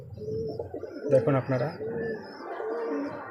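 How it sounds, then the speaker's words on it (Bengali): A domestic pigeon with a watery, teary eye coos softly in a series of low, throaty calls close by, while someone talks over it. "এই যে বন্ধুরা কবুতরটা চোখে পানি ঝরা হয়েছে"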